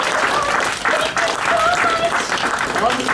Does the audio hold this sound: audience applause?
yes